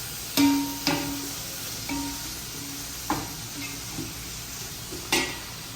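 Sliced onions fry for Thalassery dum biryani, a steady sizzle in hot oil broken by a few sharp clinks and scrapes of a spoon against the pot.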